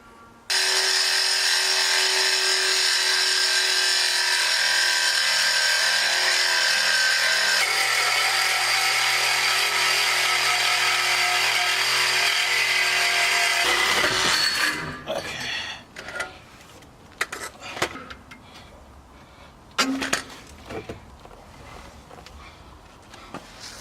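A power tool cuts through the exhaust pipe of a 2017 Mustang GT during a Roush axle-back install, a loud steady whine with shifting pitch for about fourteen seconds, then stops, leaving scattered clanks and handling noises.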